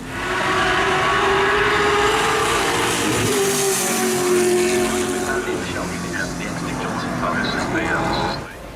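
V8 Supercars race car with a heavily modified 5-litre V8 revving to about 7500 rpm through a six-speed sequential gearbox, loud engine roar rising and falling under continuous narration.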